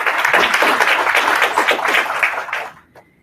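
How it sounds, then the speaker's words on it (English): An audience at a Canada-Africa business conference breaks into applause, a dense, steady wash of many hands clapping for close to three seconds before fading out abruptly. "So a big round of applause to you."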